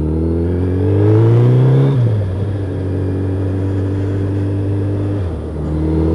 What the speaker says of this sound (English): I'm just trying to keep my revs up a bit.